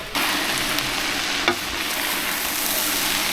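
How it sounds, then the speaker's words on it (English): Callaloo green sauce with garlic and ginger bubbles in a pot as it comes to a boil, giving a steady, close, loud bubbling hiss with one brief clunk partway through. "There it is, it's just coming to a boil."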